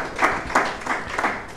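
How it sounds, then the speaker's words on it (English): Audience applause at a DFCU QuickBanking launch press conference, several bursts of hand clapping rising and fading in waves over a short stretch, fairly close and moderately loud. "I think we need to give them a hand clap."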